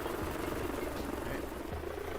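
A helicopter in the VRChat video game drones with a steady rotor whir and low chopping pulses, a continuous engine hum at moderate level.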